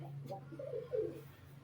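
A Chatiyal Kalpetiya Giribaz pigeon gives a short, close coo, a couple of soft throaty notes over a low steady hum.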